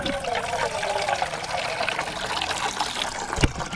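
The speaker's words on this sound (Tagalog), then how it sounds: "maglalagay natin tubig dito" Water pours steadily into a cooking pot while making kare-kare, a continuous splashing trickle heard close up, ending with a brief knock.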